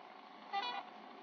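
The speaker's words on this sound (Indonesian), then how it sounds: "Klaksonnya keren banget sih." Loud truck horn blast in a truck driving video game, a single honk of about a quarter second rising briefly over a steady low engine drone.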